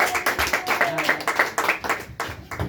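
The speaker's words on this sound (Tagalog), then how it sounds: "kaya lahat po tayo pumalakpak" A church congregation at a Sunday service clapping in a rhythmic, uneven pattern of many hands, with voices mixed in the background.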